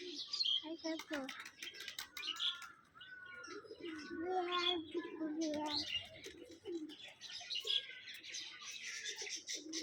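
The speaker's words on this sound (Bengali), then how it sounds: "কবুতর খাবার খাচ্ছে, দেখছো?" Pigeons feeding outdoors, with soft cooing and chirps over several seconds while people talk nearby.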